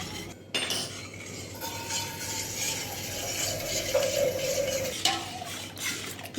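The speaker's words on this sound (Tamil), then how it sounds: "உப்பு ஈவனாக கரையிறதுக்காக இந்த மாதிரி நல்லா கலந்து விட்டுட்டோம்னா உப்பும் ஈவனாக கரைஞ்சிடும்" Salt being stirred into buttermilk with a spoon in a vessel, steady scraping and light clinking across the stretch, close and moderately loud, with a brief brighter ring near the end.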